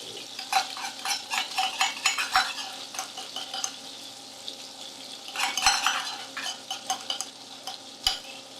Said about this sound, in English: I'm going to start by putting my soy margarine in my pan